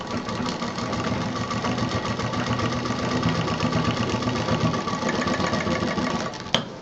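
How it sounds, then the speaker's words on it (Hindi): A sewing machine stitches a pocket onto a handmade bag, running at a steady fast whirring, buzzing rhythm close by for several seconds before a brief knock at the end, with no talking. "अब इसको हम यहाँ से एक सिलाई दे देते हैं ताकि ये बार बार खुले नहीं।"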